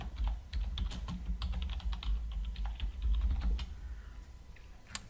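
Rapid, steady typing on a computer keyboard, close and continuous, with keys clattering in dense bursts over a low background hum and no speech.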